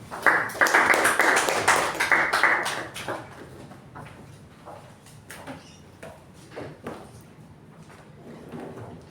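Audience at a Toastmasters club meeting applauds to welcome the general evaluator, a dense burst of clapping that is loudest in the first three seconds and then thins to scattered claps and room noise.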